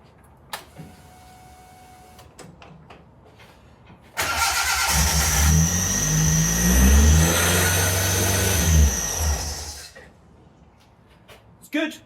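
A car engine with ECU and idle setup trouble cranks, catches and revs loudly for several seconds after fuel priming, then cuts off; brief talk comes before and after.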